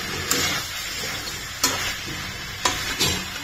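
Spices and green chillies are stir-fried in a wok under a steady hiss, with four sharp stirring clacks spaced across the stretch.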